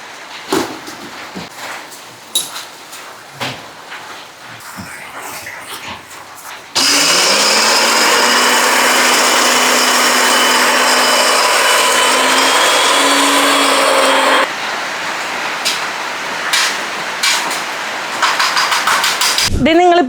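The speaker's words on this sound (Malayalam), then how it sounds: "അപ്പൊ നമ്മൾ നേരത്തെ വറുത്ത് കോരി വെച്ച ഐറ്റംസ് എല്ലാം നമുക്ക് സെപ്പറേറ്റ് സെപ്പറേറ്റ് പൊടിച്ചെടുക്കണം" A grinder whirs loudly and steadily for several seconds as it grinds roasted pickle spices into powder, then cuts off abruptly. Quieter handling noises and voices come before and after it.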